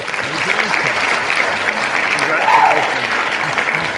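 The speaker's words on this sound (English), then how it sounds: "The actual title for that noise or that sound is called subdued applause" Subdued applause sound effect played during a livestream beer giveaway, a steady even patter of clapping lasting throughout at moderate volume with no clear voices.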